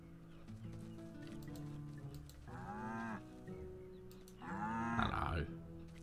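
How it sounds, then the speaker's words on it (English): Cows moo twice in a farm setting, a long low call followed by a second louder one, heard alone over a steady background hum. "We'll go and deal with the cows as well."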